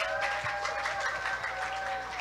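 A school audience at a madrasah claps together at the end of a police officer's talk, a soft, even patter of many hands heard from a moderate distance over a faint background hum.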